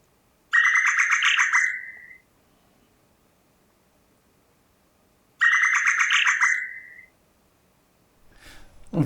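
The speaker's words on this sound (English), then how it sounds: "The big problem in the end are birds singing over or under other birds." Two separate bird song phrases, each a buzzy trill ending in a rising note, ring out clearly with a pause between, followed by a brief faint different sound at the very end.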